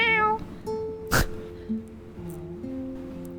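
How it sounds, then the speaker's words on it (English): A cat meows several times at a doorstep, close and clear, with drawn-out tonal cries and a brief sharp noise in between. "Listen to his meow."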